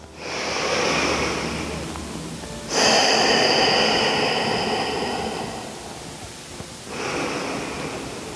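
Slow, deliberate breaths during a calm yoga flow for balance, three long airy inhales and exhales close to the mic with brief pauses between, no talking.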